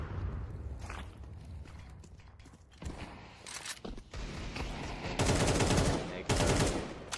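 Bursts of video game gunfire, shooting through a window, crack out in repeated volleys of varying length, the densest and loudest bursts near the end, with faint movement sounds between them.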